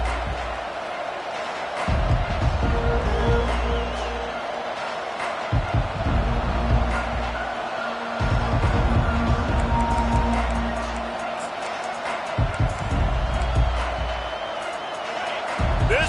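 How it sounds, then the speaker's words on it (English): Stadium crowd noise from the College Football 25 video game, a loud steady roar that swells and dips in waves with a few louder surges, heard at a distance, sometimes with low talk over it. "This crowd trying to show them what it's going to be like all day in this house."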